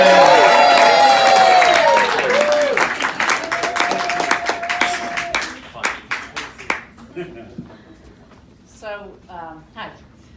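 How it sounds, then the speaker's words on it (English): Audience applause for a performer at a comedy show, dense steady clapping that starts loud and then thins into scattered claps before fading out, with a voice calling out over it. "let's keep the applause going"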